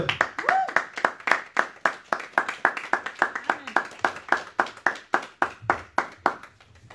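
A church congregation clapping in unison to acclaim Jesus Christ, a rhythmic series of sharp, evenly spaced claps at a brisk tempo, with voices singing or calling underneath.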